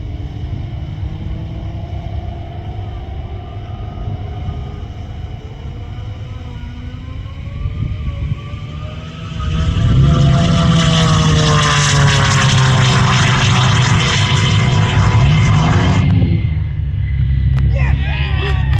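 A Ford Mustang drag car makes its first run on a half-mile track on fresh tires: a rising engine drone swells into a loud, sustained roar for several seconds, then cuts off and fades.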